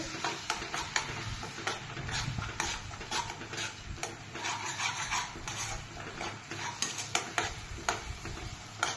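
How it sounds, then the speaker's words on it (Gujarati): Ginger and green chili paste is tossed into a pan and stirred with a spoon for dum aloo. The scraping and clinking of metal run quietly and steadily throughout, with no talking. "હવે આદુ મરચા અહીંયામાં નાખી દઈશું આપણે"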